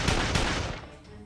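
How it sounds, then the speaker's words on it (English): Rapid burst of gunfire from a battle scene in the visual novel video game Code: Realize, loud dense shots fading over about a second. "there is a hailstorm of gunshots"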